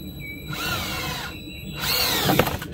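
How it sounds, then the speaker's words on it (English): An electric screwdriver drives heavy-duty screws in two close, loud bursts of whirring motor whine that rises in pitch, with a brief pause between them, during work on raising an antenna. "screwdriver instead of a manual screwdriver because it's just a lot of work for these heavy duty screws"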